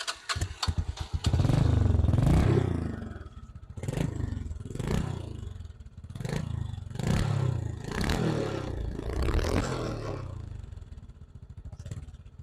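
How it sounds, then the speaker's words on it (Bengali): A used Bajaj Discover 135cc motorcycle engine runs close by, with sharp revs and blips over a rough idling chug and mechanical clatter, and no talk. "আমরা যদি আপনাদেরকে সাউন্ডটা যদি শোনায় তাহলে দেখেন গাড়িটির সাউন্ডটা আসলে কি অবস্থায় আছে।"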